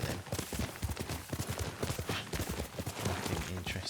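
Horse hooves clip-clopping in the video game Ghost of Tsushima, a quick, continuous rhythmic trot of hoof strikes, moderately close and without speech.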